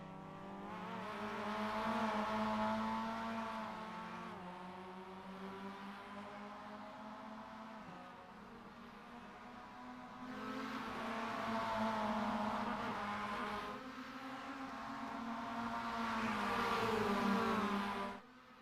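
Mazda MX-5 Cup race cars in a sim racing game drone along in a pack, engines rising and falling through gear changes, fairly faint and steady over the whole stretch with no talk.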